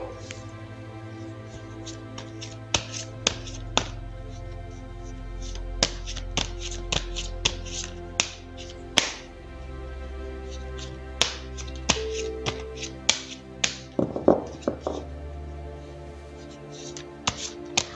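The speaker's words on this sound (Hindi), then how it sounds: "तो चलिए पहले ज़रा कार्ड्स को शफल कर लेते हैं" Tarot cards being shuffled by hand, a run of soft riffles and sharp taps and snaps scattered irregularly over a quiet background, close up with no talk.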